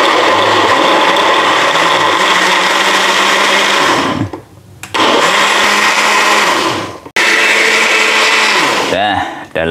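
A new electric blender whirs loudly and close as it purees a home remedy drink, the motor running in long bursts that stop abruptly twice before restarting, with voices heard faintly around it.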